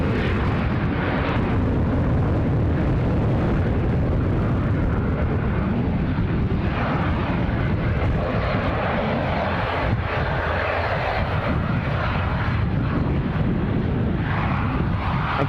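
A plane taxiing at Edinburgh Airport on a windy day: a steady, loud broadband engine roar with heavy low-end rumble and wind noise, continuous throughout with no talk.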